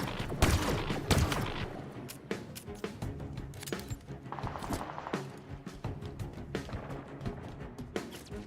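Stalker rifle fire in Halo Infinite: loud, sharp shots in rapid irregular bursts, mixed with impacts and other combat noise close by.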